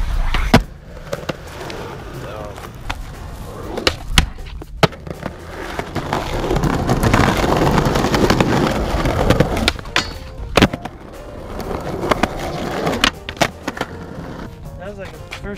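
Skateboard rolling on pavement in Compton, with a steady wheel rumble broken by sharp board clacks and slaps as a trick lands, and people talking and cheering nearby.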